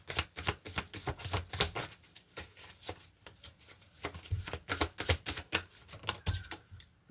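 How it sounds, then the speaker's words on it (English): Tarot cards being laid out on a table, a quick irregular series of soft slaps, flicks and shuffling snaps close by, with no talk over them. "I'm going to lay a few cards out to see where this is going."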